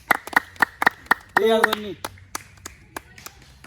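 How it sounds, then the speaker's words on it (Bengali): Sharp, evenly spaced claps ring out one after another, joined by a short burst of hand claps from a small group, with voices and a brief sung or drawn-out vocal sound in the middle. "আচ্ছা মিশন ভাইয়ের জন্য একটা হাততালি"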